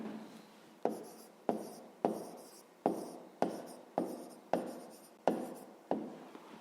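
A pen writing an answer into a fifth-grade math exercise, a steady series of about nine short scratching strokes at a regular rhythm, close and quiet, with no talking over them.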